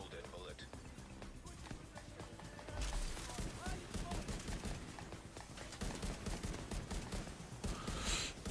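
Diamondback rifle in The Division 2 video game, sharp shots in short rapid bursts over busy combat noise, with someone talking throughout.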